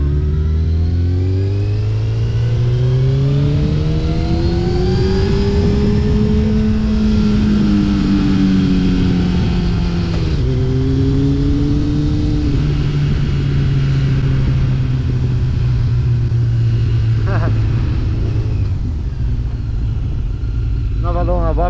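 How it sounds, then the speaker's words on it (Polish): A sport motorcycle engine revving hard at high RPM, a loud, close, continuous roar whose pitch climbs, dips and climbs again, then settles into a sustained high-revving drone. "Wysokie obroty i ja też lubię."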